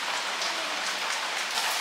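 Heavy rain from Cyclone Remal pours down in a steady, dense hiss, loud and continuous with no gaps and no voices.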